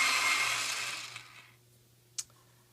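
A coloured pencil is sharpened in an electric sharpener, giving a loud whirring grind that fades out after about a second and a half, followed by quiet and a single sharp click.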